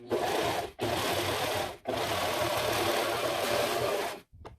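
A serger-style sewing machine trims and stitches the unfinished edge of a reused curtain drape, running in three loud, steady bursts separated by brief pauses.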